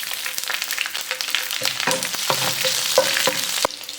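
Mustard seeds, curry leaves and slit green chillies hit hot oil for a bitter gourd dish, crackling and spitting loudly close up in dense bursts of pops over a continuous sizzle.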